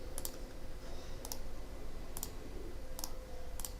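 Computer mouse clicking, five crisp isolated clicks at a steady spaced rhythm over a low steady background hum, close and quiet with no talking.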